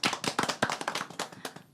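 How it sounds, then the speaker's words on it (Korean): Audience applause at a gathering of counselors, teachers and therapists celebrating a psychology book, a burst of many hands clapping close and lively with irregular sharp claps throughout, no talking. "자, 더 크게 박수"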